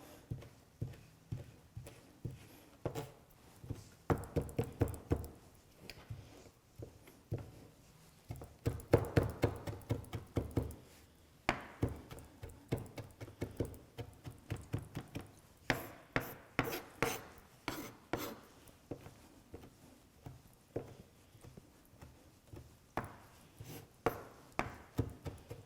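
Rapid knife chops on a cutting board, coming in uneven bursts of quick taps throughout, close and fairly quiet with no talking.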